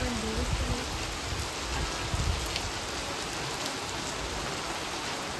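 Heavy rain pours steadily outdoors, a dense, loud, continuous hiss of drops on surfaces, with a faint voice briefly audible beneath it near the start.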